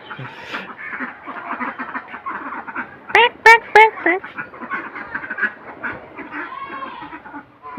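Ducks quack loudly and close by in a short burst of several calls among farm poultry, with people talking over and around them.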